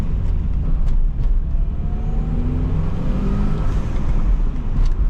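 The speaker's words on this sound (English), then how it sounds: "Which means you hear the turbo building boost before you feel it." A 1992 Ford Sierra Sapphire Cosworth runs under load with its turbo spooling up. The engine drones steadily and loudly throughout, with rising whistly tones as boost builds.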